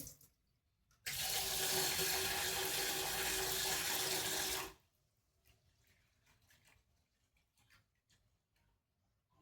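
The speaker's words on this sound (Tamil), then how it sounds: "அரிசி கழுவி தந்துடுறேங்க" Rice washed under a running kitchen tap, a loud, steady gush of water lasting several seconds, then cut off, leaving faint clinks and light handling noises.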